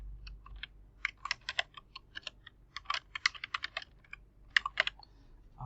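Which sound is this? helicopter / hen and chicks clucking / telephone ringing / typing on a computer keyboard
typing on a computer keyboard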